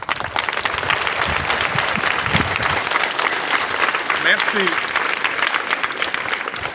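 An audience applauds the mayor of the commune of Saint-Louis at a World Environment Day launch event, with steady dense clapping throughout and a person speaking briefly over it.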